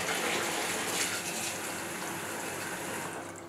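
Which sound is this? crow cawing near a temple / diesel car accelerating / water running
water running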